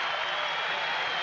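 Steady applause and cheering from a basketball crowd at a 1992-93 NCAA game between Iowa State and Minnesota, a dense, continuous wash heard at a distance.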